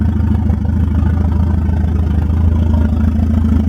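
Volvo 940 engine idling steadily just after start-up, a continuous low rumble with a light mechanical clatter, close and loud, no voices.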